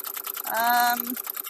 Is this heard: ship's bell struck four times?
no